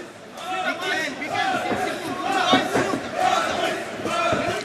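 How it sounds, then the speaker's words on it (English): A crowd at an MMA fight cheers for a favored fighter, a roaring mass of shouts and chanting that rises and falls in waves, with a commentator's voice mixed in. "we can hear the crowd cheering for the favorite, Azizbek"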